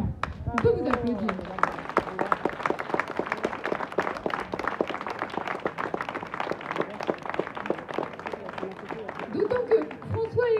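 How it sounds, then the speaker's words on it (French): Crowd applause at a Brest street festival on Rue Saint-Malo honoring a woman named Mireille, dense steady clapping from many hands lasting throughout, with some voices mixed in. "On peut vous applaudir."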